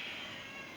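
A cat meows once, faint and fairly distant, in a home motorcycle workshop during work on a Ducati 750SS cafe racer, against a steady background hiss.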